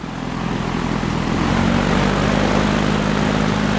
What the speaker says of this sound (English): You just flip that switch over to high. And that's running wide open, moving a huge amount of air.